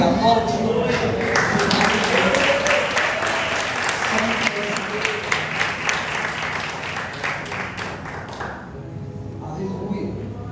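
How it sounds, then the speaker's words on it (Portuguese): Congregation in a Portuguese-language church service applauding loudly for about eight seconds, a dense steady roar of claps that fades out toward the end, with a few voices mixed in. "eu quero te convidar a glorificar e a aplaudir."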